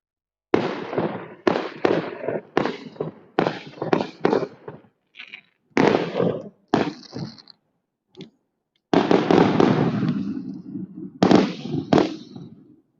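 Fireworks and firecrackers burst during Spring Festival in Longchang, Sichuan: a string of sharp cracking bangs, some in quick clusters, followed by a longer sustained crackling volley, loud against quiet gaps.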